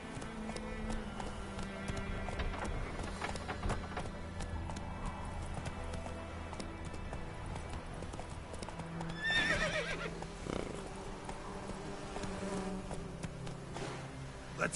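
Roach, a horse in The Witcher 3, trots with steady clip-clop hoofbeats throughout and gives a clear neigh near the middle, over a busy game soundscape with buzzing insects.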